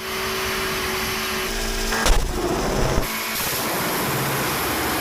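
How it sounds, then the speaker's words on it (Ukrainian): A sudden loud explosive bang from a car engine under an endurance test cuts through a constant droning engine, followed by a second sharp thud about a second later. "Пролунав якийсь гучний вибух."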